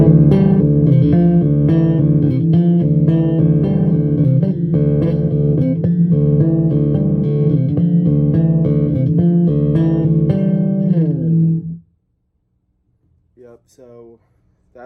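A six-string Warwick Corvette-style bass plays a run of rapid, evenly picked notes with a bright, growly tone that rings close and loud for about twelve seconds before stopping, followed by brief speech.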